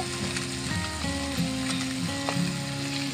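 Constant oily sizzle of small puti fish frying in oil at moderate volume, with occasional clinks and scrapes from a pan, no one speaking.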